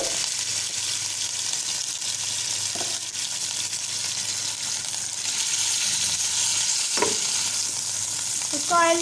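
Half a kilo of mutton fries in oil in a pot, giving a dense continuous sizzle with occasional stirring scrapes and light clinks, close and steady.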